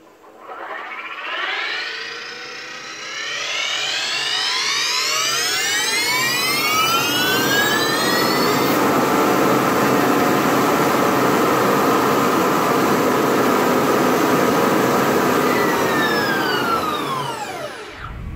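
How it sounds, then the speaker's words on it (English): Tesla electric motor running under load, a loud rising whine that climbs in pitch over several seconds, holds a steady high roar, then winds down at the end, with no talk. "If you ever wanted to hear and see the sights of a Tesla motor in action, here you go."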